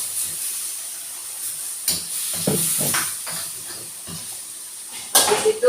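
Water poured into a hot pan of fish gulai gives a steady steamy hiss, with short sharp spurts partway through and louder sizzling near the end, close by.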